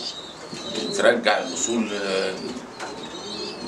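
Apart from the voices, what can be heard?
pigeons cooing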